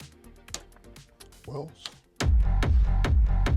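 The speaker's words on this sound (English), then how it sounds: "so we're going to start with a kick drum" A Roland TR-909 kick drum pounds a steady four-on-the-floor beat, loud and punchy, entering after a brief spoken word and mixed bits of quieter sound.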